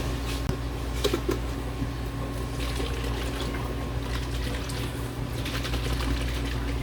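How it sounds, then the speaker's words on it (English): Water sloshing and trickling inside a spaghetti sauce jar as a small splash of water is added and swirled to rinse out leftover sauce, a steady close liquid wash over low kitchen hum. "I put a little water in this and rinse it out so I can get all that good stuff."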